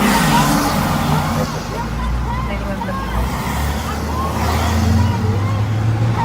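Road traffic rushes past outdoors in a continuous loud roar, with people talking through the noise.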